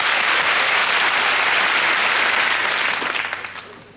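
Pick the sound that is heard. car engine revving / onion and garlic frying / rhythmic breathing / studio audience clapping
studio audience clapping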